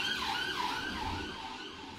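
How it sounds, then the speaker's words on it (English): Emergency vehicle sirens wail outside, their wavering tones rising and falling continuously at a moderate distance, fading slightly toward the end. "excuse the sirens."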